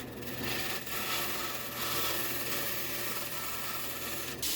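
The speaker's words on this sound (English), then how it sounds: "here I'm grinding all the profile right up against that scribed line I have" Belt grinder shaping the profile of a wrought iron san mai hunting knife up to a scribed line, a steady continuous abrasive rasping hiss that runs unbroken and fairly loud, with a brief sharper scrape near the end.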